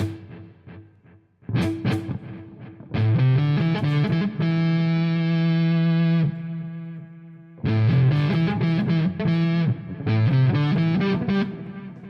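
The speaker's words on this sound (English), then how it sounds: "Digital reverb." Distorted electric guitar through a digital reverb effect, playing sustained chords and short riffs, drenched in a bright, lingering reverb that rings out between phrases.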